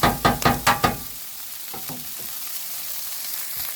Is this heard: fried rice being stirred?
yes